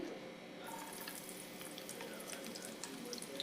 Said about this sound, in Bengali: এখন দিয়ে দিচ্ছি আমি রসুন কুচি।